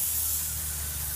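A paint sprayer coats the stucco walls of a house with a steady, even hiss, heard close and continuous with no voices.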